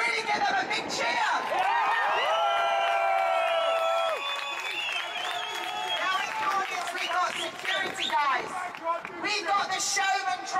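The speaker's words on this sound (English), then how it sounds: "So let's really give them a big cheer!" A large outdoor crowd at a rally in Trafalgar Square, London, cheers, whistles and shouts. The sound is loud and sustained, with overlapping voices throughout.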